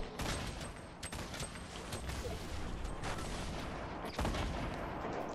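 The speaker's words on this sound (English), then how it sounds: "I have a grenade launcher." Rapid explosive bursts and blasts from a grenade launcher in the video game Fortnite, a dense, continuous barrage of booms and crackling impacts with a few sharper, louder hits.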